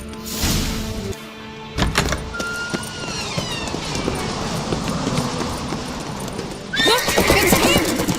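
A horse whinnies amid hoofbeats and busy game-like background noise in The Witcher 3: Wild Hunt, with a louder burst of neighing and commotion near the end.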